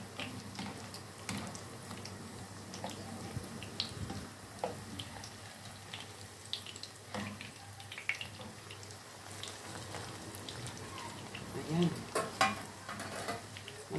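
Squash flowers fry in a pan with a steady, low sizzle, punctuated by light clinks and stirring noises across a long stretch.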